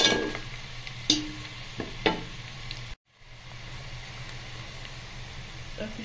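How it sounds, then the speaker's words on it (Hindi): Onions browning in a pan for maash dal, with a steady low sizzle and a few sharp stirring scrapes near the start. The sizzle drops out briefly midway, then continues at a constant level. "ये प्याज थोड़े से और ब्राउन हो जाए तो फिर मैं इसमें बाकी के मसाले ऐड करूँगी।"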